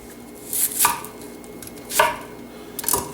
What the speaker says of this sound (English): So for a small dice for the onion